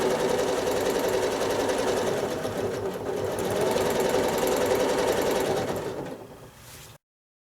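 A sewing machine quilts small hearts into a rail fence block, its steady, close, rapid stitching whir running almost unbroken before slowing and stopping near the end, with no talking.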